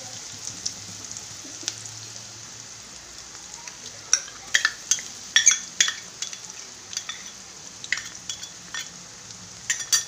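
Onions with ginger garlic paste sautéing in a pan for paneer butter masala, a steady soft sizzle broken by repeated sharp scrapes and clinks of a spoon stirring against the metal, growing busier toward the end.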